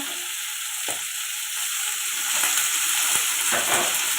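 Fish frying in a pan with spring onion, green chili and tomato, a steady loud sizzle with occasional scraping stir strokes, no voices.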